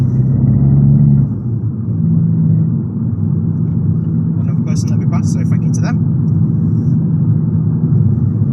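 An Abarth car's Toyosports sports exhaust rumbles low and steady while driving, with a person speaking briefly over the drone midway.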